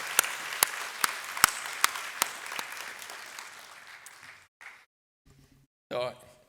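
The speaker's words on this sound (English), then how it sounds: "So give them a round of applause." An audience at a college general assembly applauds a record five-million-dollar donation to the college's foundation. Dense clapping with a few sharp close claps fades over about four seconds, then gives way to near silence and a brief burst of sound.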